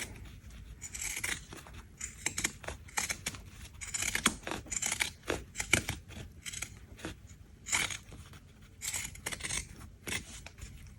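Pinking shears cut through fabric while a shoulder strap pad is sewn, giving a quick series of crisp, close snipping crunches in irregular bursts, with no talk.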